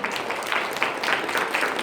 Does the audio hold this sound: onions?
no